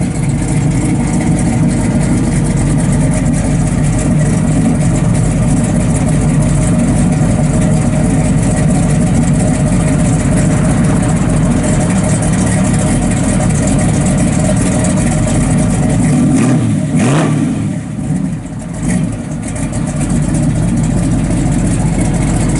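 A 1967 Pontiac Firebird with a 400 engine idles loud and close, its exhaust giving a deep, even burble that runs steadily for over twenty seconds with a slight dip near the end.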